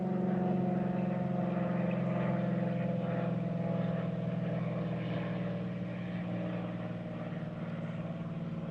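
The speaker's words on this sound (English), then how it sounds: "Sorry, I have to wait on this plane to actually pass." A propeller airplane passing overhead, its steady droning engine hum filling the whole stretch at moderate loudness and easing slightly toward the end, with no talking.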